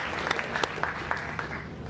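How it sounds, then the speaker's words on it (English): At a women's college foundation day ceremony, an audience gives a round of applause, a short steady burst of clapping heard at a moderate distance. "A big round of applause now for MUFG."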